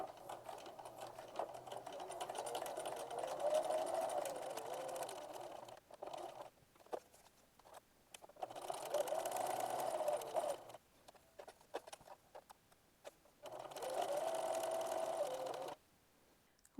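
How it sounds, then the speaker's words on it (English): Sewing machine stitching the three sides of a fabric Christmas tree mug rug with a quarter-inch seam, running in three sustained bursts with short pauses between, steady and moderately loud with no talk. "you're going to use a 1/4 inch seam allowance and sew around 3 sides"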